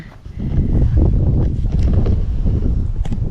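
Steady, loud wind buffets the microphone in an open wheat field, a continuous gusty rumble that swells early and holds with brief rustling on top, no talking.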